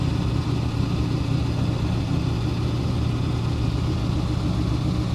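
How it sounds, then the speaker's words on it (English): A 1968 Beaumont pro street car with a custom-built exhaust idles steadily up close, a loud, continuous low rumble with no talk over it. "Got a nice little rumble to it."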